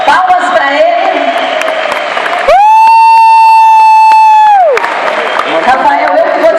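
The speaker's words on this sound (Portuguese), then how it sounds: "Palmas para ele." A convention crowd claps and cheers, with a loud steady electronic beep cutting through the middle before the applause resumes.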